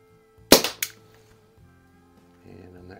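Two sharp, close air-pistol shots from a vintage Crosman 44 Peacemaker air revolver crack in quick succession, followed by faint low hum and quiet background noise.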